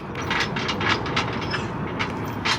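A train passes on rail tracks at a city filming location, a steady loud rumble with repeated rhythmic clacks from the wheels over rail joints.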